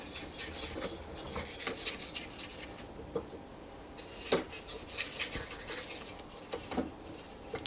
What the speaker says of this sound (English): I'm going to scrape down the sides because my sugar and butter are stuck and they are not incorporating with the eggs.